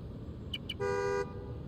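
A car horn in Spider-Man: Miles Morales gives two short toots and then one longer blast, heard close against a low ambient hum of the game city.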